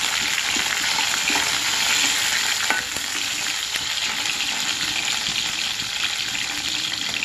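Green chilies frying in hot oil in a pan while a pulao is being cooked, giving a constant close, loud sizzle and crackle. A clatter of stirring near the middle is followed by a slightly calmer hiss.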